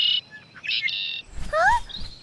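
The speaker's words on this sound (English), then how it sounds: "What a beautiful bird!" Bird singing during a mountain climb, a few high whistled chirps and trills in short phrases, followed by a voice talking over rising notes.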